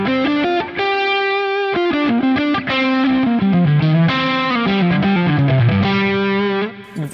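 An electric guitar played through a J Rockett Dude overdrive pedal, Dumble-style, sustains a smooth, heavily driven melodic lead line of bending notes and short phrases, loud and up close with no talk.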